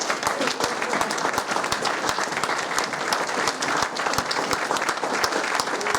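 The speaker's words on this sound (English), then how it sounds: "Please join me in a round of applause" Sustained applause from a large lecture audience, steady dense clapping filling the whole stretch without pause, loud and close.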